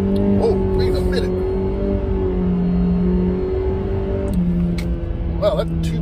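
A 1.5-liter turbocharged Mitsubishi Eclipse Cross, a 2020 ES, accelerates from inside the cabin, its engine droning steadily and rising in pitch across the clip, with a voice speaking over the engine noise.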